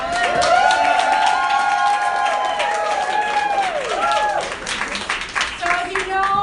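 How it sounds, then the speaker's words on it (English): A rally crowd supporting Kim Foxx applauds organizer Marilyn Katz with continuous clapping mixed with cheers and voices, loud and full throughout. "let's give her a round of applause"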